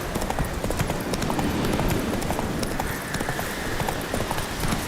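Roach, a horse in The Witcher video game, clip-clops steadily over the ground, a continuous rhythm of hoofbeats at close range amid ambient game sound.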